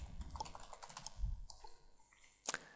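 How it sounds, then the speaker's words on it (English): Rapid keystrokes on a computer keyboard as a message is typed, a steady close clatter of clicks with a sharper louder tap near the end. "Now type your message."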